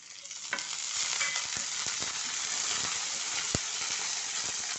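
Dried red chillies and curry leaves fry in hot oil in a close, continuous sizzle, with scattered sharp pops and crackles breaking through the steady hiss; no one speaks.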